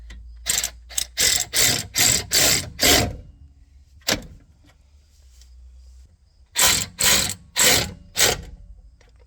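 A ratchet wrench tightens the 16 millimeter mounting bolts of a VEVOR 13,000 lb winch in loud, close bursts of rapid clicking. A long quiet gap separates two runs of strokes.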